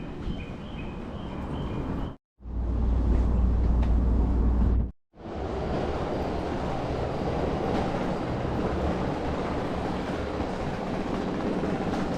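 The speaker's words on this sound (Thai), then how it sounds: "รถไฟเดินค่ะ" A train in Tokyo rumbles along steadily with broadband rolling noise, briefly cut twice by short drops to near silence, then continuing loud and constant.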